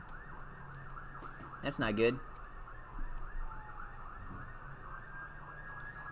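An ambulance siren wails in a steady repeating cycle, moderately distant, over outdoor ambience at a college baseball game, with a brief spoken remark partway through.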